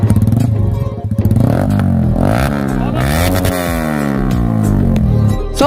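A Yamaha R15 V3 sport bike fitted with an SC Project exhaust revs loudly and up close, its engine note climbing and falling through repeated throttle blips with a raspy, harmonic-rich tone throughout.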